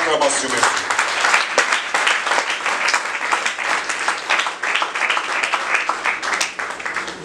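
An audience applauds a pastor as he is welcomed to speak at a conference of spiritual organisations, a dense, steady wash of many hands clapping at moderate level for several seconds.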